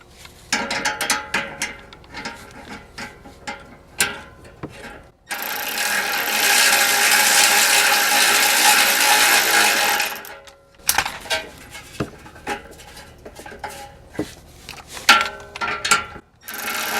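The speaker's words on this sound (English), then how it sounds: "So let me get the electric ratchet and we'll run up the slack." An electric ratchet runs up slack on a muffler strap during a GM exhaust repair, giving bursts of rapid clicking ratcheting, then a steady buzzing whir for about five seconds, then more intermittent clicks close to the mic.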